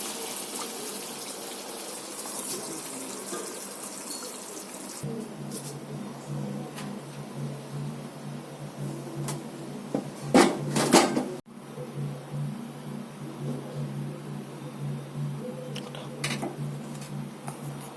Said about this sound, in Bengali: বন্ধুরা রান্নাটা আমার হয়ে গেছে, আমি তরকারিটা এখন ঢেলে নেব।